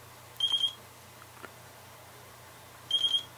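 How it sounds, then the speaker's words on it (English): Two short bursts of high electronic beeping from a radio control transmitter during receiver binding, each a quick triple chirp, separated by a few seconds of quiet hum. "Well, it's going to beep anyway."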